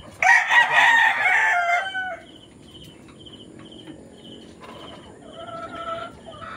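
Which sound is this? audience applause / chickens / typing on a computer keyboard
chickens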